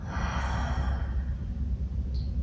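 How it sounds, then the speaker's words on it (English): A long, breathy open-mouth exhale during yoga breathing, close and fairly loud, fading gradually over a couple of seconds. "Deep breath in. And an open mouth exhale."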